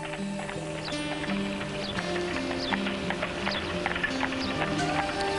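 Horse-drawn cabs clip-clop through the streets of Denpasar, Bali, with a steady, overlapping patter of hooves on pavement, close and continuous, over a busy street background with occasional faint whinnies.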